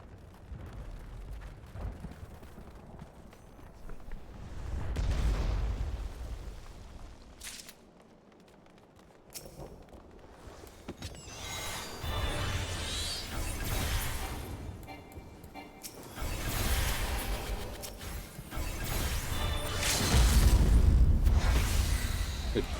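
Deep rumbling fire and explosive whooshes as a building is set ablaze in Final Fantasy XIV, swelling in slow loud waves with low booms and crackling between quieter lulls.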